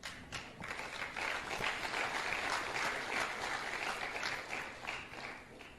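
A crowd applauds, steady dense clapping rising and holding for several seconds before easing slightly.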